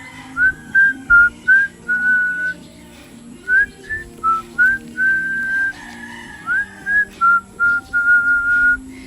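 Someone whistles a melody nearby in a series of short, clear notes with brief pauses between phrases, loud and steady.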